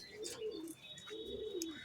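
A Belgian racing pigeon in a loft gives two rolling coos in a row, close and fairly soft, with light chirps and faint wing movement around them.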